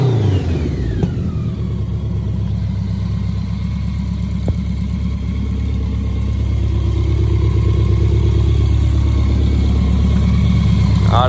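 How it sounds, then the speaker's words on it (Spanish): A BMW K100 scrambler motorcycle engine runs steadily at idle with a loud, even drone and slight rising revs, filling the whole stretch without talk. "Aunque se ve, se escucha, se siente que la moto va muy bien"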